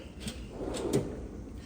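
A tool drawer in a home workshop slides open or shut with a soft, brief rumble and a couple of light knocks, quiet and close, with no talking.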